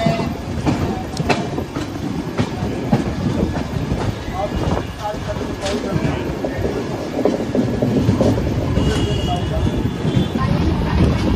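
Locomotive number 37212, built by DLW, stands at Varanasi Junction station with a steady rumble of rail and station noise throughout, faint clicks and tones above it, and people talking in the background.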